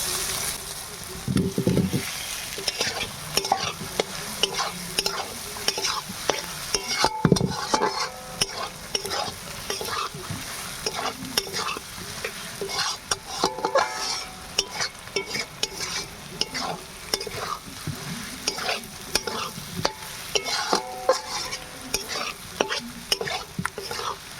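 Potatoes and spices fry in hot oil in a home kitchen pan for a snakehead fish curry, with continuous sizzling and repeated scraping stirs running throughout, close and steady.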